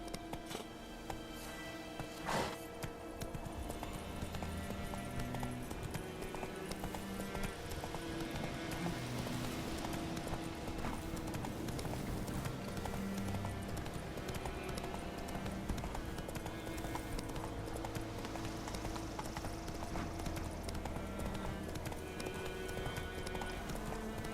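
Horse hooves gallop in a fast, steady clip-clop rhythm through The Witcher 3, continuous and fairly close, with a brief whinny-like sound near the start.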